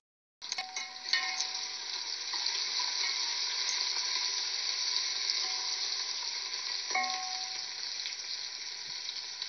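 Chicken and turnip masala with onion and tomato frying in a pan: a sizzle starts abruptly and then holds as a steady, even hiss, moderately close and alone, with a couple of faint clicks near the start and later.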